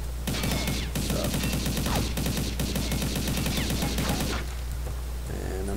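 A P90 SE submachine gun in a video game fires rapid sustained bursts, a loud dense rattle of shots for about four seconds before cutting off, followed by quieter mechanical clicks.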